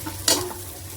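Ground chickpea paste stirred into sizzling biryani masala in a pan, one short close scrape and splash over a low frying hiss.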